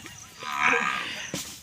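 A mother buffalo lows near her calf on a farm, one drawn-out moo swelling through the middle and a short call at the end, heard close with no talking.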